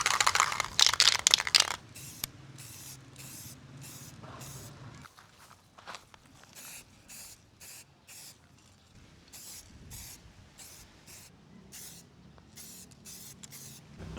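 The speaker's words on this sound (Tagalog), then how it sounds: "high temp spray paint" High-temperature spray paint applied to a Suzuki Burgman magneto: a long aerosol hiss at the start, then many short, quiet bursts in an uneven rhythm, close by and mostly faint.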